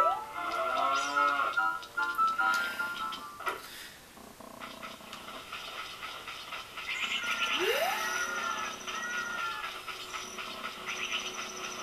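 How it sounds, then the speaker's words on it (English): Cows in The Legend of Zelda: Ocarina of Time giving low game-style moos, a couple of distinct calls spread across the stretch alongside other bright in-game effects, no talking. "for some reason the cows are immune to sword attacks."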